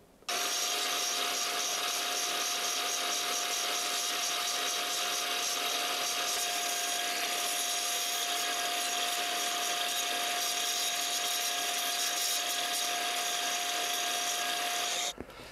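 A mitre saw cuts into a wooden bowl being shaped without a lathe, producing a loud, close, unbroken whining roar with a steady tone that runs for about fifteen seconds before stopping.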